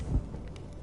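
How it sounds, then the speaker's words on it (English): Rain and thunder in the video game Honkai: a low rumble of thunder swells near the start over a steady wash of rainfall that continues evenly to the end, with no voices. "When will this rain ever stop."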